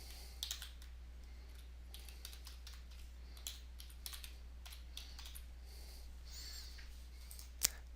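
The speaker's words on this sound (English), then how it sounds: "I could come up here and type a new name." Faint, scattered keystrokes on a computer keyboard in a quiet room, coming in short irregular bursts and isolated taps, with a sharper click near the end over a low steady hum.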